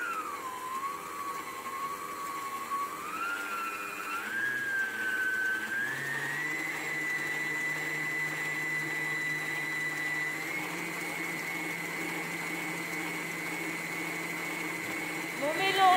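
An electric mixer beats egg yolks and sugar in a bowl, giving a steady close whine whose pitch shifts upward a few times before holding steady, with a louder scrape near the end.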